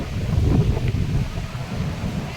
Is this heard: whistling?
no